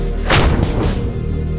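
An Indian Army artillery gun fires a single loud, sharp blast, and a rumbling boom rolls on and fades for about a second afterward.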